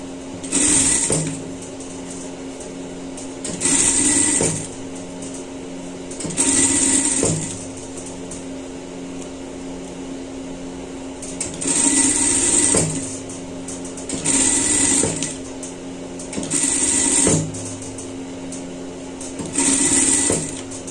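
A sewing machine stitches fabric for a pet collar in short bursts of rapid, whirring needle chatter, each a second or two long, separated by quieter pauses with a low hum, repeating about seven times.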